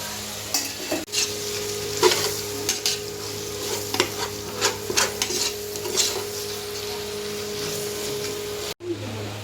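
Chopped tomatoes sizzle and fry in a pan for a home-style crab gravy, with a spoon scraping and stirring at intervals and a steady low hum in the background.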